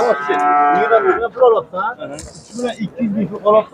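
A cow moos once, close and loud at a livestock market, then someone talks over the remaining seconds.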